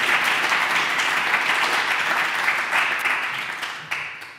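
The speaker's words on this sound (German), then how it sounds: "Applaus" An audience applauds a welcomed guest at a German talk on interfaith dialogue, a steady dense wash of clapping that holds throughout and thins slightly near the end.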